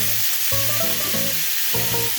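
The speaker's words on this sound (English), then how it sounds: "After 5 minutes, I'm adding a spoon of garlic" A spoonful of garlic sizzles in a pan with beef liver, giving a loud, close, steady frying hiss with a low bubbling and stirring undertone, and no talking.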